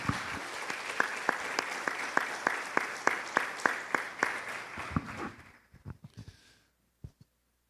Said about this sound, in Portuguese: Vamos aplaudi-lo em nome de Jesus